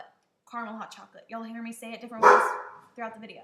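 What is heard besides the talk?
dog barking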